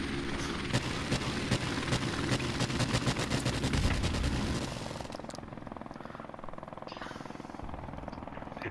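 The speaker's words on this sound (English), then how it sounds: "Helicopter support standing by. Friendly helicopter on the way." In a video game, a helicopter's rotor thumps loudly alongside rapid bursts of gunfire, then the racket drops to a quieter, steady drone.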